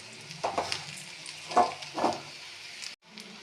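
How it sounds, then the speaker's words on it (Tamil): Grated coconut, curry leaves and cumin roast in a pan, a soft close sizzle broken by a few brief stirring scrapes, with no one talking. "அப்புறம் துருவிய தேங்காய் கருவேப்பிலை ஜீரகம் இவைகளை போட்டு வறுக்கவும்"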